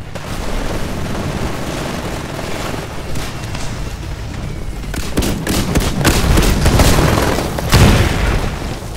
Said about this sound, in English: I think I got grenaded.